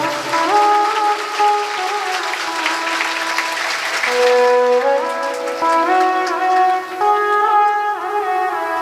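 A crowd at a religious storytelling gathering claps loudly as music with sustained tones plays, and the applause and music hold strong throughout.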